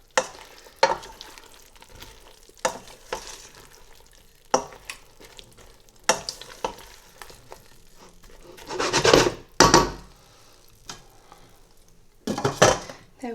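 Aubergine curry being stirred in a cooking pot, with scattered scraping and clinking strokes of a utensil against the pot at an irregular pace, plus a louder clattering burst near the end, close up with no talking.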